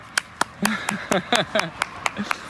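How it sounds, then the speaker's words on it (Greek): Hands clap a rapid series of about a dozen sharp, close claps, bunched irregularly, to announce an arrival at a house at a medicinal resources center; voices talk in between the claps. "πάμε να χτυπήσουμε παλαμάκια όπως κάνουν εδώ"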